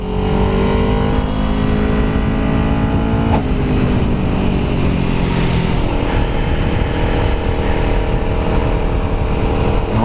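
A car engine pulls up a switchbacking mountain road after a downshift out of fourth gear, its loud, close drone holding steady and rising in pitch as it works against the climb.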